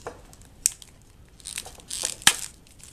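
Packaging for a Cushi Skin case for the iPhone 4/4S is torn open and crinkled up close, with a few sharp rips and papery rustles separated by brief pauses, quiet overall.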